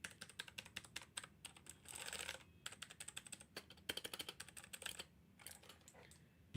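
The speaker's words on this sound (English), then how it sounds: "changed the switches on my keyboard to make it really quiet. So the spacebar is a bit loud" Keyboard fitted with swapped quiet switches being typed on, a steady run of soft, muffled keystrokes with short pauses and an occasional louder spacebar thump, close by and alone.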